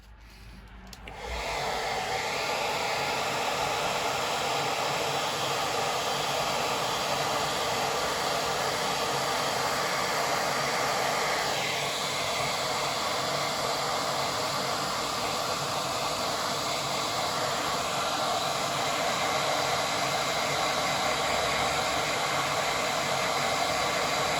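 A hair dryer blows steadily to dry paint on a painting, a loud close continuous whooshing roar that switches on within the first second and runs unbroken for over twenty seconds, with no talking.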